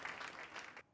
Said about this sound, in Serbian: To je aplauz bio